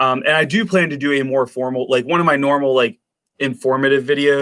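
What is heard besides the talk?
No everyday noise stands out behind the speech.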